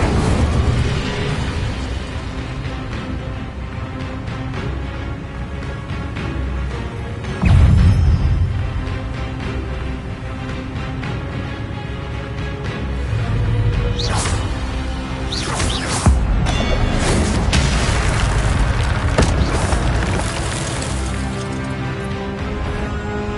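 Incendio fire spell cast in the Hogwarts Legacy video game amid a loud combat soundscape, with repeated bursts, whooshes and booming impacts over a rumbling bed and no talking.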